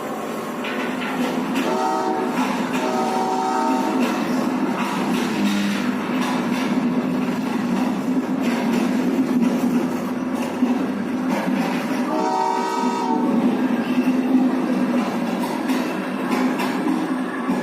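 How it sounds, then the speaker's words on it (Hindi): A miniature freight train pulls out of a model railway station in a rail museum, rolling continuously with a steady mechanical rumble and clatter, broken by repeated horn-like tones that sound throughout. "कुछ देर पहले आई मालगाड़ी अब सामान उतारकर पुरानी स्टेशन की ओर रवाना हो गई है।"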